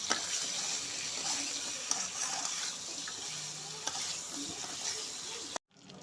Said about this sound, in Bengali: ভুরুই মাছগুলো দিয়ে দিব, হলুদের গুঁড়ো দিয়ে দিব, দিয়ে লাল করে ভেজে নেব।